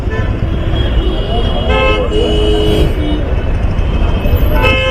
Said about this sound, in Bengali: হর্ন মেরে যাচ্ছে বক বক বক বক বক বক করে।